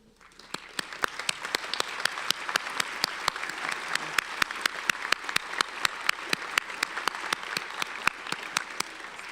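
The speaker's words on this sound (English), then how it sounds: "please rise so we can give them a round of applause" Sustained audience applause at a University of Iowa College of Nursing commencement, a steady wash of many hands clapping with sharp individual claps standing out throughout, fairly even and moderately distant in a large hall.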